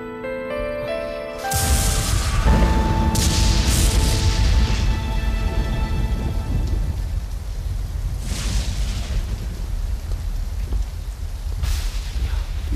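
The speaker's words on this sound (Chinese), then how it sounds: "雨都下这么大了，" Heavy rain pours down in a loud, dense, continuous roar after a brief quieter opening, with deep rumbles of thunder swelling through it and no voices.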